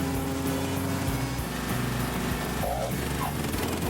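A Craftsman lawn and garden tractor engine runs loud and steady with its blades engaged, a constant droning hum that never lets up.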